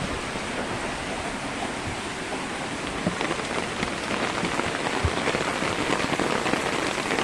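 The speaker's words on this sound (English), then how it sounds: "This is Sydney rain." Heavy rain pours down steadily in Sydney and drums on surfaces around a house and driveway, a dense, constant hiss that is close and loud throughout.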